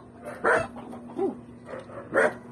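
A dog barks at a Filipino home gathering, giving two sharp close barks about two seconds apart with a softer whine between them, over quiet background hum.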